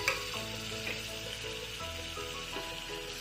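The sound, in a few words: chopped tomato being stir-fried in tempering with a big spoon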